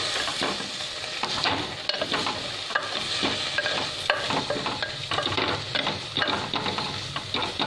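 Fenugreek leaves being stirred as they fry in a pan for a fenugreek and sesame chutney, giving a steady close sizzle with repeated scraping strokes throughout.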